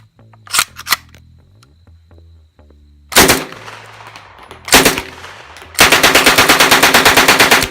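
An MP40 submachine gun fires in loud, sharp bursts. A few isolated blasts come first, then a fast, evenly spaced automatic volley closes it out, with quieter tonal background between the shots.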